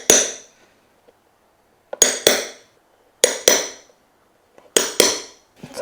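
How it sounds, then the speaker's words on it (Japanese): A hammer strikes cut wooden pegs on a handmade leather shoe sole, sharp close metallic taps in quick pairs with ringing decay, repeated four times with pauses between. "そして切っただけだとボコつくので叩きます。"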